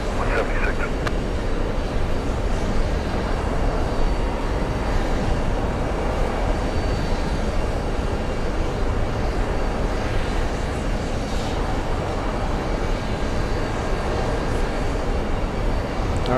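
A jet airliner rolls down runway 22 Left at JFK after landing, a broad, steady distant roar of engines lasting throughout with no clear peaks.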